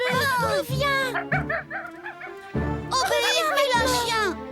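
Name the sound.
dog barking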